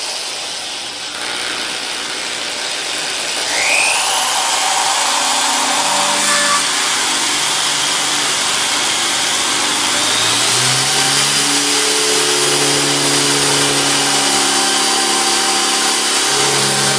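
A drill fitted with a 5/32 carbide bit bores into a Medeco high-security lock. The motor whines loudly and steadily and climbs in pitch as it spins up. Grinding tones then shift as the bit cuts through the steel.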